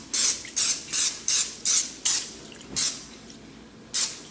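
An oil spray can hisses over a bread loaf pan in about eight short, sharp pumps, quick and evenly spaced at first and then slowing, close and fairly loud.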